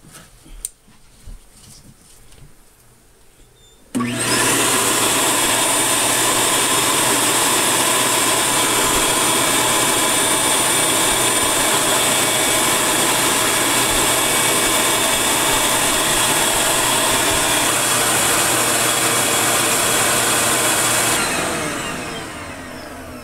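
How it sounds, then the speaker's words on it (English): A vacuum starts abruptly and runs as a loud, steady roar while bees and wax are cleared from a hive inside a house wall, holding constant for most of the stretch before tapering off near the end. "Need some vac."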